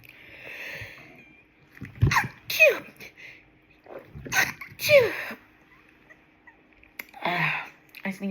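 Repeated sneezes from a person, several sharp explosive bursts with breathy wheezes and sniffs in between, close and fairly quiet.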